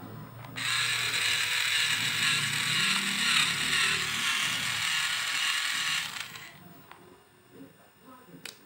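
A new automatic electric pencil sharpener grinds a pencil with a loud, steady buzzing whir for about five seconds before cutting off, followed by a few faint clicks and rattles.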